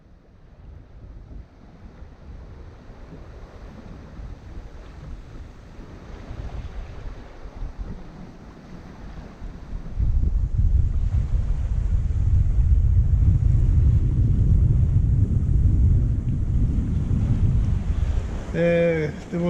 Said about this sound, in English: when I came out here there was a little bit of a breeze blowing